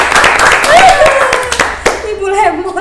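An audience claps at a casual Indonesian hangout chat show, a patter of hand claps running beneath ongoing talking voices that dominate throughout.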